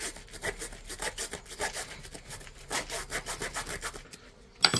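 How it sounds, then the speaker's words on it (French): Hacksaw cutting through metal, steady back-and-forth rasping strokes in an even rhythm, close and moderately quiet, ending with a brief sharp clank, no talking. "On peut aussi aller à la scie à métaux."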